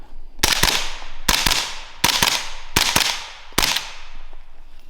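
Five loud, sharp gunshots fired at a steady, roughly evenly spaced pace, each with a quick echoing tail, from a 16-round magazine being emptied through a warm gun, with no talking.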